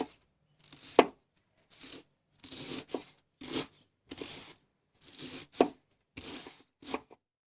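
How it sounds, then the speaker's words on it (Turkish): Steady knife chops finely cutting beet leaves on a board, about ten crisp strikes in slow, even bursts, close and clear with no talking. "Usta ellerde bu şekilde ince ince kıyılır."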